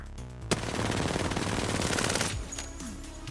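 Sustained automatic gunfire from a video game rattles out loud and dense for about two seconds after a sharp onset, then stops, leaving quieter game ambience behind.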